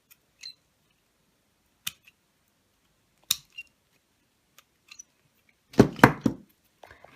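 Cutting small parts for a cork reindeer Christmas craft: a few sparse, faint clicks and snips, then a short close burst of crunchy cutting sounds near the end.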